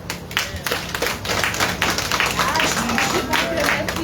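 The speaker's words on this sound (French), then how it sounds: "Bon, belle applaudissement pour papa." Applause for fathers at a Father's Day Sunday service in a Haitian Baptist church in Florida: steady, dense clapping from the congregation that holds through the whole stretch, with a low hum and murmuring voices underneath.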